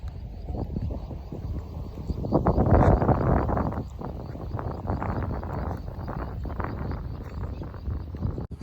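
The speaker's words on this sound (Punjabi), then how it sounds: "ਹਵਾ ਵਾ ਘੈਂਟ ਚੱਲੀ ਜਾਂਦੀ ਆ" Wind blowing across open farm fields in Punjab, a loud, continuous rumbling buffet against the microphone that swells briefly partway through and then stays steady, with no one speaking.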